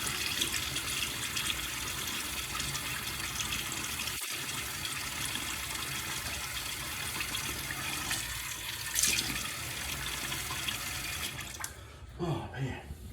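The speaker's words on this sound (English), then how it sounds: "Let me get my face wet." A tap runs steadily close by, a continuous broad gush of water while a face is wetted before shaving, then the flow cuts off near the end and a few splashes follow.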